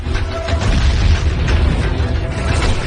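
A deep, rumbling video game explosion rolls on continuously, with heavy low-end roar and crackling debris throughout.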